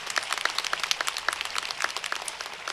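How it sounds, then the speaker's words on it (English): Audience clapping at the 2022 Fullerton College commencement, a dense patter of many hands rising and falling steadily throughout with no voices over it. "Let's give them a great big round of applause"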